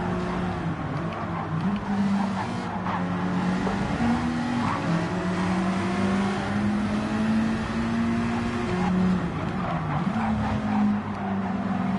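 A race car in a racing video game drives at speed, its engine a loud, continuous drone with pitch rising and dipping through gear changes and corners, without talk.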